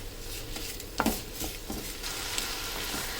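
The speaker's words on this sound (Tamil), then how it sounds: "இந்த தக்காளி நல்லா மசியணும். மசிகிற வரைக்கும் நம்ம வதக்கிக்கலாம்." Tomatoes cooked down with masala powder until mushy, soft sizzling in a pan with a spoon scraping and a few metallic clinks, close but fairly quiet, no voices.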